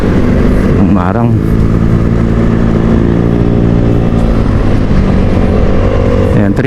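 A loud, steady motorcycle engine drones in busy roundabout traffic among many other motorcycles, with its pitch rising and falling slightly throughout.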